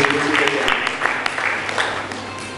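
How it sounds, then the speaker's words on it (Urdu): A convocation audience at Trinity Biblical University gives Nazia a round of applause, dense steady clapping that fills the hall for a few seconds without letting up. "تو نازیہ کے لیے زوردار تالیاں"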